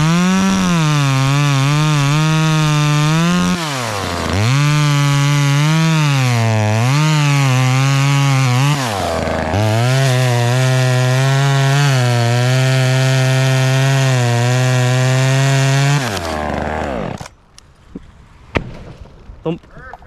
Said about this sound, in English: Okay, chainsaw.